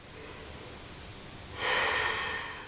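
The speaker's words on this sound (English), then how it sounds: "let's take a couple more breaths" A single deep, close breath rushes out partway through a vinyasa yoga flow, rising suddenly after a quiet stretch and fading slowly, with no talking.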